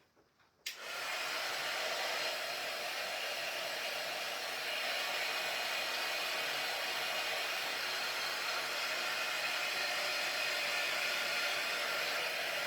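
A handheld dryer switches on with a click and blows a steady, loud, even whoosh for several seconds while drying stencil paint on a wooden board, with no talk.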